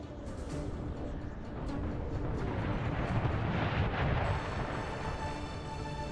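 Artillery fire in Napoleon Total War's American Civil War mod: a distant, rolling rumble of cannon booms that swells toward the middle and stays fairly quiet throughout.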